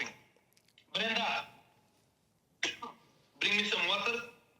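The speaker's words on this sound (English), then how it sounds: "1 second, I'm coughing" A man coughs and clears his throat in three separate bursts, close and fairly loud, with near silence between them.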